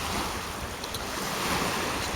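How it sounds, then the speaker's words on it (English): Choppy bay water slaps and churns around a kayak while strong wind buffets the microphone, a steady, dense roar that never lets up. "the bay is just way too choppy"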